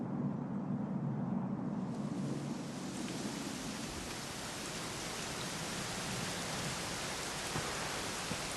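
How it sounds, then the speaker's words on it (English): Steady, dense rain in the video game Dragon Quest XI S pours down evenly, a constant hiss with a soft low rumble underneath and no voices. "it was raining like this"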